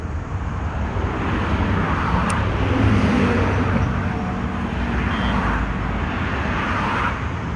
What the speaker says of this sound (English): Trucks are still driving down this side of the lane, so they'll come out soon.